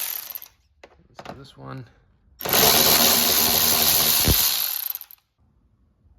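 A ratchet removes screws on a Range Rover L322 during a tow bar fitting, a loud close whirring burst of about two and a half seconds, following brief talk and a few clicks.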